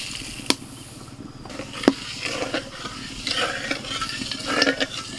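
Sugar stirred into water in a pan to make syrup for chhena pithe, steady scraping and swirling over a low sizzle, with a couple of sharp knocks near the start and no talking.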